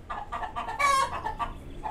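A flock of backyard chickens clucks loudly and close by, a rapid run of bright, rhythmic clucks with one louder squawking burst in the middle, heard alone.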